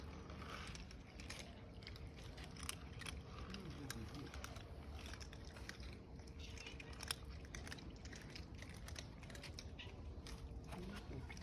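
Several cats eat dry food together, a dense, steady run of close crunching clicks that continues throughout without talk.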